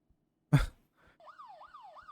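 A police siren wails in the horror video game Fears to Fathom Home Alone, rising and falling in a steady looping cycle. It follows a sharp breathy burst and a few faint thumps and plays clearly in an otherwise quiet scene.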